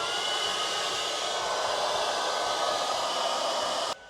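A hair dryer runs steadily as a loud, close, broadband whoosh, powered from the vehicle-to-load outlet of a BYD Sealion 6 Dynamic; near the end it abruptly drops to a quieter level.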